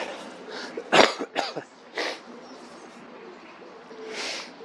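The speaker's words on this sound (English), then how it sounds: "I always seem to get coughs and sniffles on a plumbing recording" A few sharp coughs and throat-clearing bursts come close together, then a quieter cough follows after a pause, close to the microphone.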